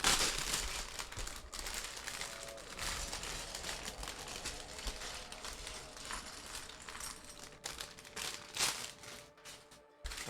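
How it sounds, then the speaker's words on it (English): Empty plastic bags from a Lego set crinkle and rustle in irregular bursts close up, with small clicks and rattles mixed in, and no talking. "I've got a massive pile of empty plastic bags next to me."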